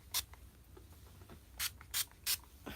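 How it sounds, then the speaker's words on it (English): Heat protection spray is misted onto the ends of long hair in short pump bursts, one early and then three close together, near and crisp, with no talking. "So we're gonna spray towards the ends"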